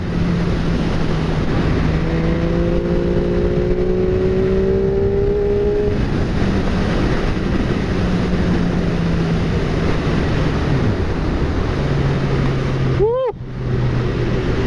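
A 2015 MV Agusta F3 800 motorcycle being ridden, its steady engine drone and wind rush filling the whole stretch, with a brief rising whine near the end.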